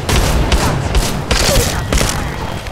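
Gunfire in the Apex Legends Mobile video game, dense bursts of shots and booms crackling loudly and close throughout, with repeated heavy impacts over a continuous roar.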